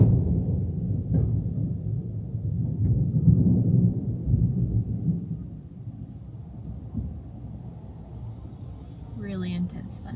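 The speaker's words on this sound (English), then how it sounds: "Really intense thunder and lightning." Thunder rolls through a Florida summer storm as a deep, low rumble over the first half, fading to a quieter murmur with voices present.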